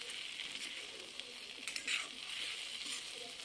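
Chopped coriander fries in oil with an okra thecha. It gives a soft, continuous sizzle with light stirring scrapes, close and fairly quiet, with no talking.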